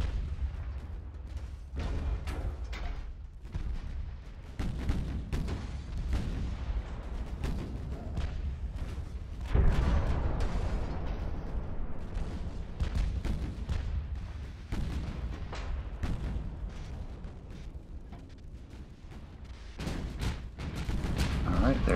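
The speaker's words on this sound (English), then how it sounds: "there's our salvo" Naval artillery in Ultimate Admiral: Dreadnoughts booms as a salvo with repeated heavy, rumbling shots and sharp reports spread across the stretch, over a constant low roar, with a voice talking at points.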